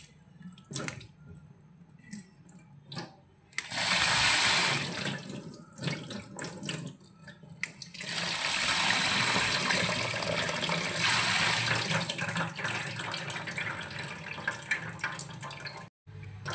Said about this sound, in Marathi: म्हणजे जी शिजण्याची प्रोसेस आहे ती लगेच अशी बंद झाली पाहिजे, त्यासाठी आपण यात थंड पाणी ॲड केलं.